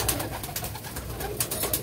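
Pigeons coo softly in a loft, low repeated murmuring calls close by, with no talking.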